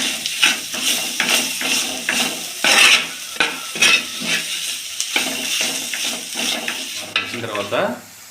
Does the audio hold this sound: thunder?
no